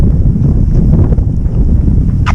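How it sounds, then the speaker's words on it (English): Strong outdoor wind buffets a microphone steadily for the whole stretch, a loud low rumble with no speech, heard during a marathon run. "Gosh, it's windy."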